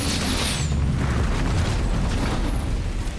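Continuous rumbling blasts pound a base in a Halo Wars 2 battle, a heavy low roar with layered booms and no clear breaks, loud and sustained across the whole stretch.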